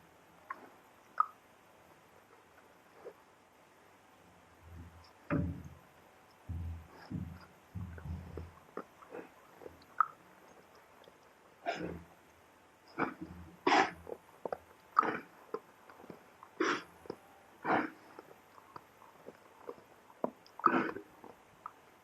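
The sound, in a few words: cow chewing food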